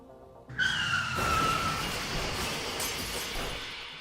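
A car drives and skids, a sudden loud tyre screech rising over rumbling engine and road noise that lingers for a few seconds with no voices.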